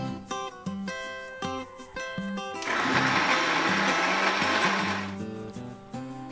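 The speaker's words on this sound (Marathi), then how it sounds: "खोबरं आणि कांदा लसूण, ते वाटून घेऊया." A mixer grinder whirs loudly for a few seconds, grinding roasted coconut with onion and garlic, the burst rising over background music and then stopping.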